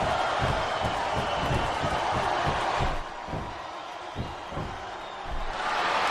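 Dense arena crowd roar at a televised wrestling match in WWE SmackDown vs Raw 2008, loud and continuous with rhythmic stomps and claps, dipping briefly midway before surging back.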